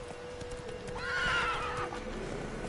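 Roach, Geralt's horse in The Witcher 3, gives a drawn-out whinny mid-clip over a steady bed of hoof clatter and game ambience, fairly close and moderately loud.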